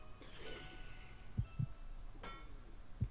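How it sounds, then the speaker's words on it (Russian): A low, muffled heartbeat sound effect in the video game Resident Evil Code Veronica X throbs as a close double thump, then repeats after a pause over a faint ambient hum. "А чё сердцебиение здесь?"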